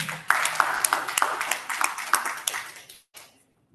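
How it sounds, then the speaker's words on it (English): A training-program audience breaks into scattered applause, a brisk run of claps that fades out after about three seconds, with a short trailing sound at the end. "Can you clap for them?"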